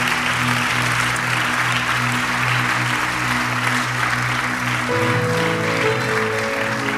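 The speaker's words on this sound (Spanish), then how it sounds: "Dele un aplauso, aleluya." Church congregation applauding, a steady wash of clapping heard alongside sustained organ or keyboard chords that shift partway through.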